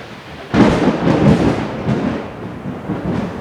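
A deep rumble of thunder from a Michigan storm rolls in and lingers, heavy and broad, with a faint hiss of rain underneath.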